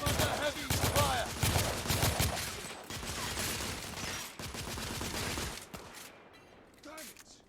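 Heavy gunfire in the video game The Order: 1886, with dense bursts of rapid shots and sustained fusillades, shouted voices mixed in, and the firing thinning out toward the end.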